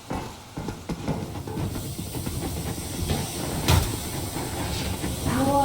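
Steam hisses from a train in the video game Metro, a broad airy rush with a brief louder burst midway, heard over low rumbling game ambience.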